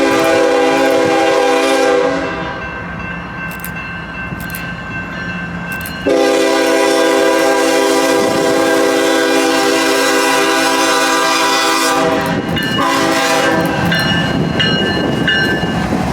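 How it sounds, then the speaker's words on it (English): An eastbound CPKC manifest freight train rolls past up close with a loud, steady rumble of cars, its horn sounding in long blasts at the start and again midway, then a rising clatter near the end. "An eastbound CPKC manifest sneaks up on me"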